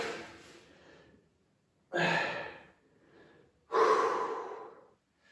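Heavy breathing during a HIIT shoulder and back workout: three long, forceful exhalations spaced about two seconds apart, close and loud, with no talking.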